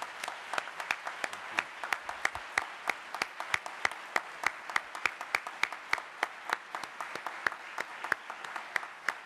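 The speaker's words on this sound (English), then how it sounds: "Let's give all of our award winners a big round of applause." An audience applauds award winners at the 2011 Presidential E-Award ceremony, a dense, even round of clapping with distinct individual claps throughout.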